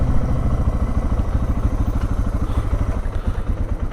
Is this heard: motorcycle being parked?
yes